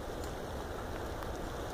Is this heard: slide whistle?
no